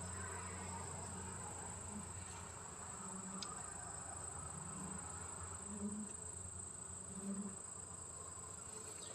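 Honey bees buzz inside an open hive during a farm inspection, a dense, steady drone heard up close with no break throughout.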